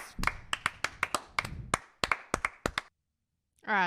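Polite applause imitated by one person's hands, about a dozen separate sharp claps in an uneven rhythm, close and dry, ending in a brief silence before a voice starts.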